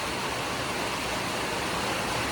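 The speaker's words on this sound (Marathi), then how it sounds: "वरती लय धडाधड धडाधड पाऊस येतो" Heavy rain pours down hard from above onto a house during a windstorm, a dense, steady, unbroken rushing hiss that holds at the same loudness throughout with no voices.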